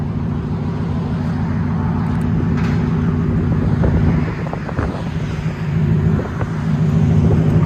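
A 2019 Ford F-150 Lariat with a 5.0L Coyote V8 and Flowmaster Outlaw dual exhaust rumbles steadily with a deep, throaty low drone, close and loud, swelling slightly near the end with some wind noise.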